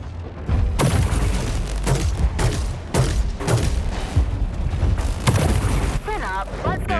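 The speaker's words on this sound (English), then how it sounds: "it's firing the little rockets much faster" Rapid bursts of small rockets fired by a mech in War Robots Frontiers, a run of loud booming thuds and mechanical clatter repeating across the clip, with a voice talking over parts of it.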